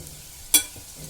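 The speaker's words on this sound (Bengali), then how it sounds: "আলুটা নাড়াচাড়া করে ভালো করে ভাজা হয়ে গেছে" Potatoes frying in a pan give a soft, steady sizzle, broken by one sharp scrape of stirring partway through, with faint movement noises after.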